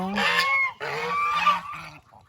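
Geese honk in two loud bursts, the calls harsh and overlapping, with ducks and hybrid ducks nearby; the flock is close, and a fainter call trails off at the end.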